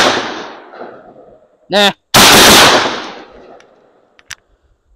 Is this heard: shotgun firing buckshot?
yes